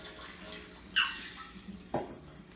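A shaken gin martini is poured from the shaker into a glass, giving two short splashy bursts of liquid about a second apart, fairly close and soft, with no talk over it.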